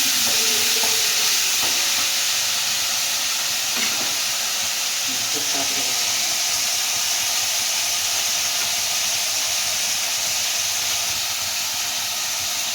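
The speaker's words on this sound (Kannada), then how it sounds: "ಇದೊಂಚೂರು ಫ್ರೈ ಆಗಿ ಒಂದು 3 ಟೊಮೆಟೊ ಹಾಕಿ" Onion mixture frying in a pan with tomatoes added, a loud, steady sizzle and hiss with faint stirring clinks underneath.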